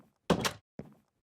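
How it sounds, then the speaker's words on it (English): A wooden door made of umbran wood being placed or opened in a video game: two short dry wooden clunks, the first louder and longer, the second quicker and softer, in near silence. "Let's go ahead and make a door using this umbran wood."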